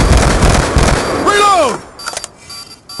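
A frag grenade goes off in a first-person shooter video game: a loud, rough blast that fades out, followed by a few falling whistling tones and scattered, softer game effects.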